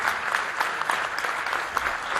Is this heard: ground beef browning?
no